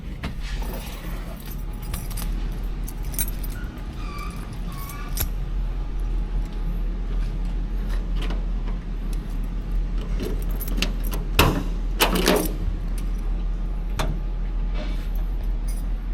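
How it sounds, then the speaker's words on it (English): Car keys jangle and clink in a steady metallic shimmer for a 1973 Buick Centurion, close by over a low engine-like rumble, with a few sharper clinks. "Let me grab the keys"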